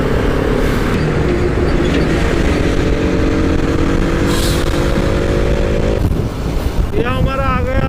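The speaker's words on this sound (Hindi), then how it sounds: "फाइनली हम आ चुके मेन रोड पे।" Motorcycles and cars roar past on a main road, a constant loud engine drone buffeted by heavy wind noise, with a horn-like tone near the end.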